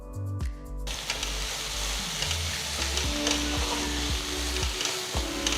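Squid masala sizzles and bubbles in a pan with a continuous frying hiss, punctuated by a few scattered spoon scrapes and clicks, up close.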